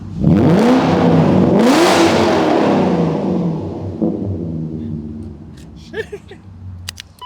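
A BMW Z3 straight-six engine starts and revs hard close by, its loud sweeping roar rising twice before settling into a lower idle rumble, followed by a few faint clicks and a brief voice.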